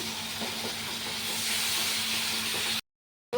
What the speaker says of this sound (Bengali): এটা দিয়ে কষিয়ে জল দিয়ে দেবো দেখো অল্প করে জল দিচ্ছি